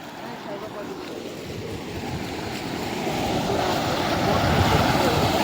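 Floodwater surging after a dam was broken during floods in Surendranagar, Saurashtra, a loud continuous roar that swells steadily stronger, heard close with voices over it.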